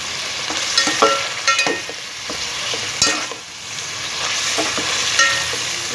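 Fresh ginger garlic paste fries with chicken in hot oil, a steady close sizzle broken by repeated scraping stirs of a spoon against the pan.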